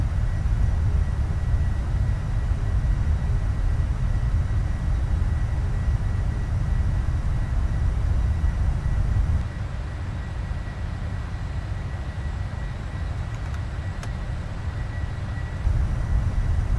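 PMDG 747 Freighter climbing out of Anchorage in the Prepar3D flight simulator, a steady loud low engine roar and cockpit rumble that holds throughout, dipping slightly in level partway through.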